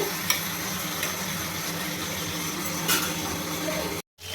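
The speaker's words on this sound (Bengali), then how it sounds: "জিরেটাকে আমি ভালোভাবে ভেজে নেব।" Whole cumin seeds fry in hot oil in a pan as a tempering for a home-style prawn, potato and papaya curry, giving a steady broadband sizzle with a few faint stirring clicks before cutting off abruptly near the end.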